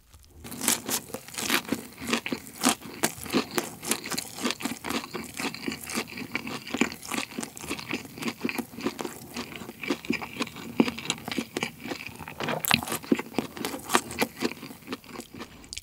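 A big crispy fried chicken burger, the Mom's Touch Incredible Burger, is bitten and chewed up close, giving repeated crunchy snaps, crinkles and wet munching in an irregular rhythm over about sixteen seconds, with no talking.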